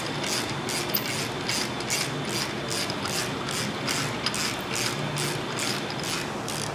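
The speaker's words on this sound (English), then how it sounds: "then tighten everything down" A hand ratchet tightens bolts on the front accessories and pulleys of a Chevrolet 454 big block engine, a steady, close run of quick metallic clicks that continues without pause.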